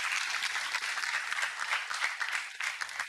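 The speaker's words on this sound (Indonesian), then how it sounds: "Oke, beri tepuk tangan untuk Aji." Dense, sustained applause from a studio audience on an Indonesian evening TV talk show, steady claps filling the whole stretch with a loud, even wash and no break.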